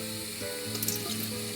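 Water pours steadily from a cup into a pan for a Thai chicken satay sauce, a continuous close splashing trickle over a faint sizzling kitchen background, with no talking.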